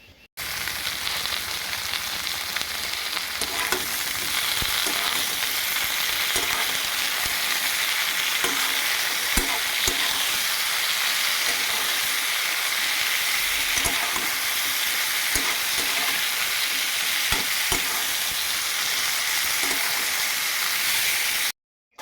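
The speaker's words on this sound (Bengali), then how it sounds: "ওগুলাকে এখন নুন আর হলুদ দিয়ে ভালো করে পুরো ভালো করে আর কি ভেজে নেব।" Thin, long slices of pointed gourd (potol) fry in hot oil with salt and turmeric, producing a loud, continuous sizzle with scattered crackles and pops that runs steadily throughout.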